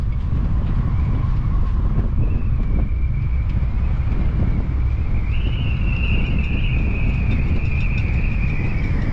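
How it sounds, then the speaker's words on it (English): Strong wind roars and buffets steadily throughout on a boat launch, with a thin whistling tone rising above the low rumble. No voices. "Listen to that wind."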